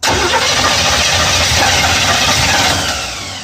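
A truck engine fitted with a freshly rebuilt Holley carburetor catches and runs, a loud, steady roar throughout with a rough, slightly knocking edge that eases off toward the end.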